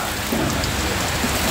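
Heavy rain pouring down outdoors around a home where a meal of rice and peas, fried chicken and curry lobster tail is being cooked, a dense, steady, close roar of drops hammering surfaces with no break.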